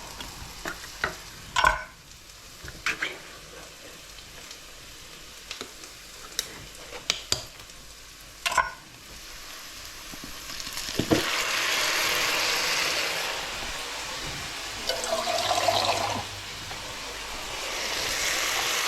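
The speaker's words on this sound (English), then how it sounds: "So I'm just going to add 2 tins of peeled tomatoes." Two tins of peeled tomatoes tipped into a frying pan: scattered clinks and taps of tins and utensils, then a steady loud sizzle as the tomatoes hit the hot pan and get stirred.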